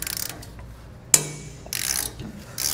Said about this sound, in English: go ahead and take what tools you do have, to remove our nuts here